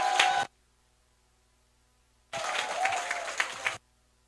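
Applause breaks out at a Liberty Unification Party youth committee launch event, a short burst that cuts off, then after a silent gap a second, fuller round of clapping lasting over a second.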